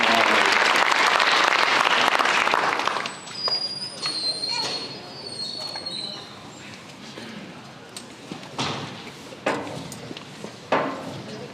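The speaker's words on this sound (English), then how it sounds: "Another round of applause for Riley heading to the University of Virginia at Raleigh." A high school audience at a National Signing Day event breaks into dense, loud applause for a student signing with a university, then it tapers off into scattered claps and murmuring voices.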